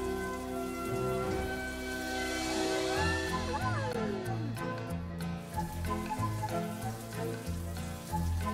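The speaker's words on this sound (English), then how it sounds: "You need to splash him with water." Water splashing onto a dirt-covered dinosaur in the Switch game Dino Ranch: a steady, soft hiss of spray that runs throughout beneath bright, bouncy background music.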